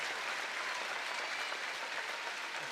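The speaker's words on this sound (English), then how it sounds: "The fans do their traditional clap before the set point" Volleyball fans clap in unison before set point during a St. John's at Penn State college match, a dense sustained roar of clapping in a large arena, steady and loud throughout with no talk over it.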